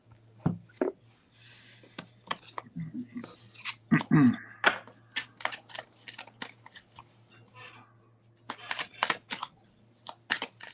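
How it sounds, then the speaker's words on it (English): Tarot cards being shuffled by hand in a quiet room, a run of soft, sharp riffling and snapping bursts that come and go irregularly, close and fairly faint. "I'm still shuffling"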